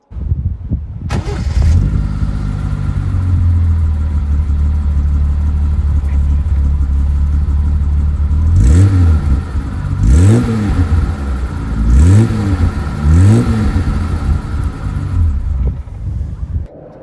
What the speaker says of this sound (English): I'm going to hop out and you can hear the car from the back as well.